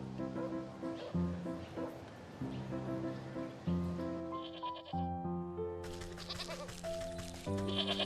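A ram in the video game Wytchwood bleats repeatedly, loud nasal calls over layered game music with sustained tones, no one talking.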